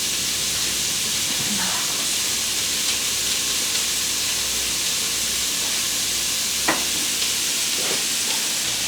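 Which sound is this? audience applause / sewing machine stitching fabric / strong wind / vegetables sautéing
vegetables sautéing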